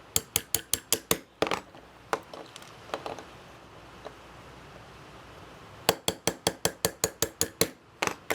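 A punch is tapped with a hammer to drive the plastic frame pins out of a Kel-Tec P11 pistol frame. Bright metallic taps come in quick runs, one burst at the start and another near the end, with a quieter gap between.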